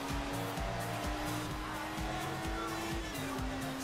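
A Lamborghini engine in the racing game Forza Horizon 4 drones loud and steady, its pitch rising and falling with gear changes. Tire squeal mixes in, with faint voices under the engine noise.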